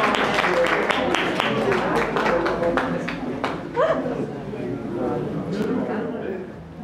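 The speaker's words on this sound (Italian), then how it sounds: "Un applauso al professore" An audience claps for a professor at a public talk in Galati Mamertino, with scattered claps mixed under an ongoing speaking voice for several seconds.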